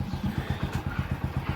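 Motorcycle engine idling nearby with quick, even low putters in a steady rhythm, fairly faint and heard alone without talk.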